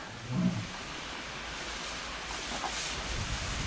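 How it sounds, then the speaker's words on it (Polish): Heavy rain pours steadily on a farm with cattle, a dense continuous hiss of moderate loudness that runs unbroken from start to finish, with no voices. "Teraz leje jak cholera"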